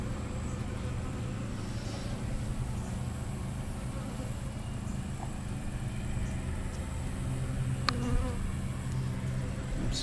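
Honey bees swarm around an open hive frame where they are drawing out comb cells, a dense, continuous buzzing close by with a faint engine rumble underneath.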